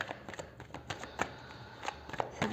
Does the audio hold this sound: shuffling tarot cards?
yes